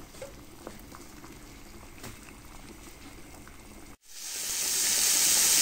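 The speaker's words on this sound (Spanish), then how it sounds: "por acá colocamos nuestra auyama a hervir" A pot of pumpkin (auyama) boiling in a home kitchen gives a soft, steady bubbling with scattered small pops. After a brief gap, a much louder hiss surges and holds to the end.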